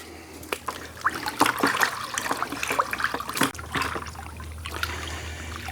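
Orange oil and dish soap stirred into water with a stick for a fire ant mound treatment, giving close, irregular sloshing and trickling splashes with a few sharper knocks, alone without talk.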